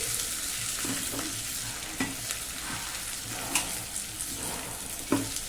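Onions fry in oil for a tempering, a constant close sizzle broken by occasional scrapes and taps as a spoon stirs them in the pan.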